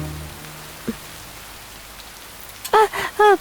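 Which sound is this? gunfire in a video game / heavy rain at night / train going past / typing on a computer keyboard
heavy rain at night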